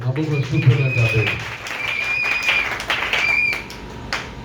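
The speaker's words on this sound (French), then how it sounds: "Acclamons encore le Seigneur." A church congregation applauds during a Sabbath service, with sustained, dense clapping filling the room and voices mixed in.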